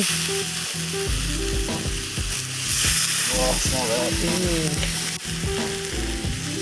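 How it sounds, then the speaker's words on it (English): Steady sizzling and frying crackle from a pan with a little wine added, cooked at an RV campsite at Colossal Cave Mountain Park, Tucson, Arizona, close and continuous, with a short spoken remark and some background music over it. "Get that sizzle going."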